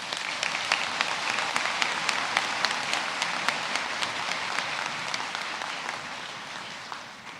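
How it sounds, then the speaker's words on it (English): An audience at a graduation conferring ceremony applauds the graduates, a full steady round of clapping with a few sharper nearby claps standing out, fading slightly toward the end. "And a round of applause, please,"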